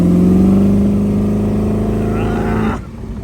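A 1932 Ford Roadster hot rod engine breathing through four EMPI IDF carburetors in an eight-stack setup, droning loud and steady under throttle before the revs drop off sharply near the end.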